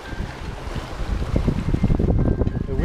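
A sailboat making fast headway between Bintan and Batam in light, shifting wind, with steady rushing wind buffeting the microphone and a continuous wash of water and hull noise throughout.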